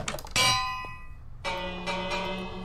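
A bell-like doorbell built in Minecraft rings out in bright, metallic chimes, a sharp strike that rings and fades, then a second, softer round of ringing tones that sustains to the end.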